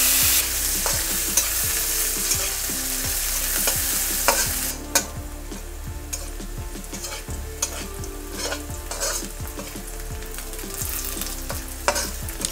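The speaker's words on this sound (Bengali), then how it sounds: "ঘিয়ের মধ্যে আমি কাজু বাদাম কিশমিশটা দিয়ে একটু ভালো করে ভেজে নেব।" Cashews and raisins frying in ghee for basanti polao, a continuous close sizzle broken by repeated rhythmic stirring scrapes against the pan, no talking.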